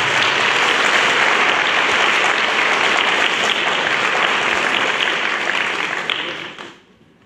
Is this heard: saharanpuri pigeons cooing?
no